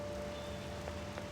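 Steady soft rainfall in Persona 5 Royal, a faint, even patter of drops that continues without a break.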